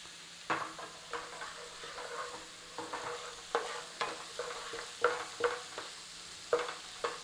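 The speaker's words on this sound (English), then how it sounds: "all we're doing is cooking that aroma out of that garlic and ginger" Garlic and ginger fry steadily in a pan over a moderate flame, a continuous soft sizzle broken by regular stirring scrapes about once a second, close and fairly quiet with no talking.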